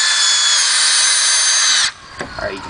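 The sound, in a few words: power drill driving screws into treated lumber mending plates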